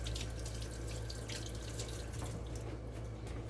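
Tap water runs steadily into a sink as food is rinsed under the stream, a continuous close splashing wash with no talking.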